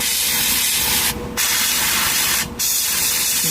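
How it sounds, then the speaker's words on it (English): A Harder & Steenbeck Infinity CR+ airbrush sprays paint onto model panels in a loud, close, steady hiss, broken by two short pauses as the trigger is released, with no talk. "because the airbrush has good control, I'm able to keep that, keep the spray pattern from going off target"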